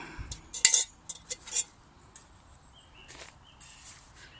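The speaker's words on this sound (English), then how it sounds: "You've got this oval aluminium main pot" Light metallic clinks and clatters come in a quick cluster, then a few quieter knocks, as an oval aluminium camping stove pot is handled nearby.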